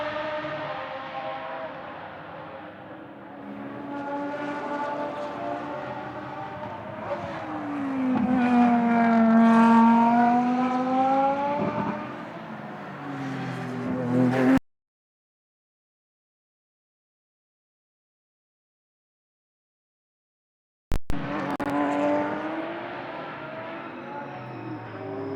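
A GT race car in free practice at the Moscow circuit drones with its engine, the pitch swooping down and back up through several gears as it passes. A long silent gap follows, then the engine returns, loud and fairly close.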